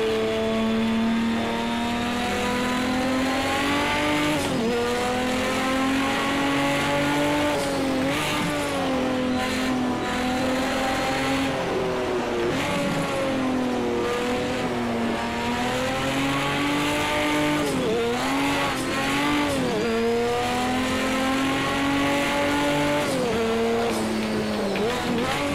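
A race car engine in a racing video game howls steadily at high revs, rising and dipping through gear changes and cornering over about twenty-five seconds, loud and up close with no pauses.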